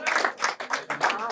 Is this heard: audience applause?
yes